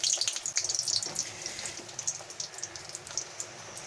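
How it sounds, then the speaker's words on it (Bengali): Dried red chillies crackle and spit in hot oil in a wok for pumpkin leaf paste, a bright, busy sizzle close by that loudest at the start and gradually settles. "শুকনো লঙ্কা দিয়ে দিলাম"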